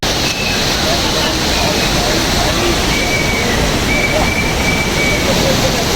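Rushing Ganga river water roars through the Bhimgoda barrage in Haridwar after heavy rain, a loud, steady, broadband torrent that fills the whole stretch without pause.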